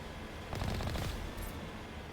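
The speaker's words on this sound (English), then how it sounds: "Are those rockets?" A short burst of rocket fire in the Mass Effect video game rises over a constant background rumble, with a dense rattling volley in the middle of the clip and no talk.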